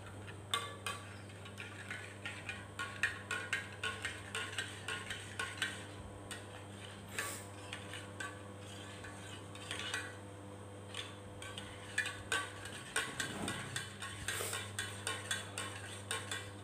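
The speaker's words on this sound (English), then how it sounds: "Final, just stir until blended." A spoon stirs coffee in a cup with repeated light clinks and scraping taps against the side, close and fairly quiet over a steady low hum, no talking.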